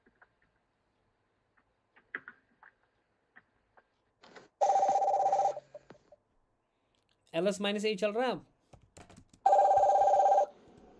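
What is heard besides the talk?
telephone ringing with an incoming call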